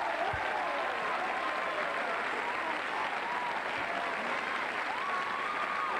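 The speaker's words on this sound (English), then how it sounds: "Could you give him a round of applause, please?" Steady applause from a television studio audience fills the whole stretch, dense clapping at an even loudness with some faint voices mixed in.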